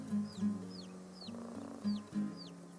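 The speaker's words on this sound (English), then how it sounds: "the mother hen makes reassuring noises to let them know she's there" A mother hen clucks softly to her chicks in a series of short, low, close clucks with pauses between, while thin chick peeps rise and fall above them.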